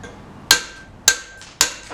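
A hammer strikes a claw chisel on stone three times at an even pace, each a sharp ringing metallic clink that decays quickly, close and isolated.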